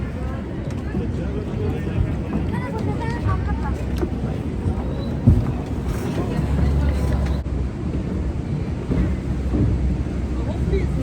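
Steady, close rumble of a boat ride at the Rhine Falls, a broad wash of engine drone and rushing water with wind buffeting the microphone throughout, and occasional voices faintly under it.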